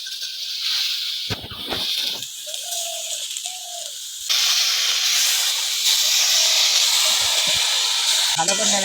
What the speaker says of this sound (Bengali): কিছুক্ষণ ভাজার পরে এবার ভিজানো মুগ ডালটা দিয়ে দিতে হবে।